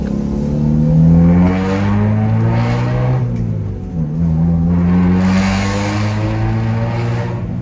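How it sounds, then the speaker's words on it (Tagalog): Exhaust of a 1990s Toyota Corolla revving loudly and close, with steady engine drone rising and falling through a few throttle blips, no talking. "exhaust na ito ni Cory."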